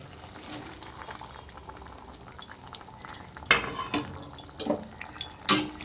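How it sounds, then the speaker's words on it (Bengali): Eggplant pieces drop into sizzling masala in a cooking pan, a low fry hiss giving way to louder clattering thuds and scraping as they land and are stirred. "তো এইবার আমি এখানে বেগুনগুলোকে দিয়ে দেব"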